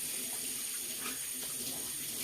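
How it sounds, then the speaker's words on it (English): Hands being washed under a running tap, a constant close rush of water splashing into a sink, with no talk over it. "Wash my hands."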